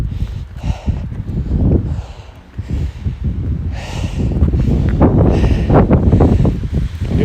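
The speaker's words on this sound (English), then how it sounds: "It's really windy up here." Strong gusts of wind buffet the microphone on an open mountain trail near the summit, loud and uneven, rising and dropping in bursts with rustling and a few footfall-like thumps.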